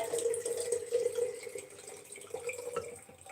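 Water poured into a container at home, a steady soft pouring and trickling stream with light splashing, close and fairly quiet, running continuously without talk.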